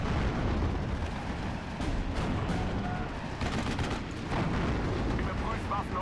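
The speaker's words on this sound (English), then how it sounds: "they do have some hella big artillery coming in" Heavy artillery barrage in the WWII strategy game Steel Division: Normandy 44, a continuous dense rumble of overlapping booms and blasts that never lets up across the whole stretch.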